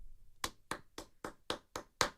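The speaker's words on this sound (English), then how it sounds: "Golf clap." A slow, deliberate golf clap: six sparse, evenly spaced hand claps, quiet and close, with no voices.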